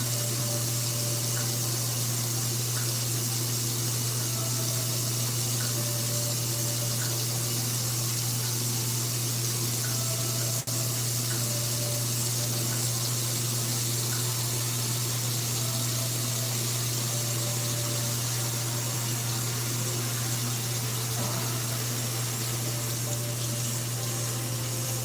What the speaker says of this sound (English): I'm washing my face off. Washing this makeup off.